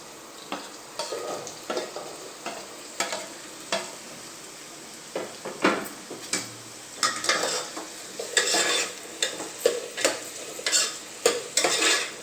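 Vegetables, carrots and now potatoes, stirred in a pan for Sunday pulao, with a steady soft sizzle under repeated scraping and clinking stir strokes at close range.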